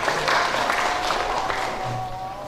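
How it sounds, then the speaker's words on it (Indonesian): Audience applause at a KNPI sub-district youth council inauguration ceremony in Bantul, a steady crowd of hands clapping at close range, even and sustained, with a faint tonal hum behind it. "Tepuk tangan untuk teman-teman semuanya."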